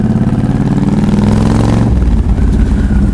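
A motorcycle engine, recently repaired after a corroded regulator rectifier, idles close and loud with a steady low throb, its pitch shifting briefly midway before settling back to an even rumble.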